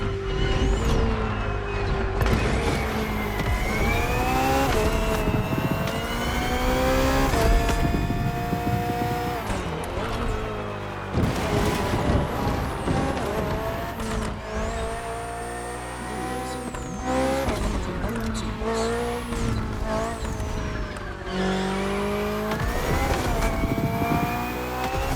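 A BMW hybrid V8 race car in The Crew Motorfest, its engine revving hard and climbing through gears with sharp shifts and tire squeals, loud and close throughout.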